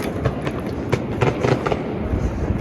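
New Year fireworks crackle and bang over the Amsterdam skyline at the start of 2022, with clustered distant pops and bursts over a continuous low rumble.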